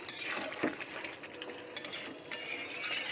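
Chicken being sautéed and stirred in a pan with some released water, giving a moderate sizzle with occasional spoon scrapes and light clinks against the pan.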